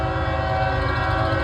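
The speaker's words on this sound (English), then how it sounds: "Told you there's a train." A passing train blares its horn in a steady, sustained, loud tone over a low rumble of rolling cars, heard from nearby without speech.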